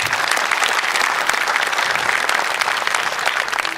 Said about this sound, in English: Let's give Darren a round of applause again